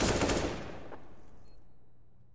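AK rifle fire in a competitive esports match ends in a short rapid burst of shots that quickly fades, heard alone.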